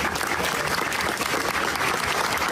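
Loud, dense studio audience applause on a Peruvian television show, continuous rapid clapping from a large crowd filling the whole clip, close and sustained.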